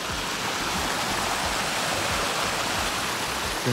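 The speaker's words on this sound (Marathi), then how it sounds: "इथं 13 वॉटरफॉल आहे इथून" Steady rushing water from a small monsoon waterfall at Tamhini Ghat, a dense continuous splashing roar that stays even throughout.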